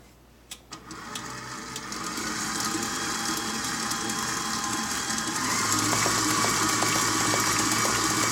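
Electric mixer beating sour cream chocolate cake batter, a continuous close mechanical whir with rattling that starts after a couple of brief knocks and grows louder and fuller toward the end, alone without talk.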